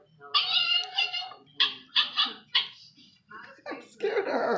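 A person imitates a cat's meow in repeated drawn-out calls, close and fairly loud, with short pauses between them. A cat may be among the calls.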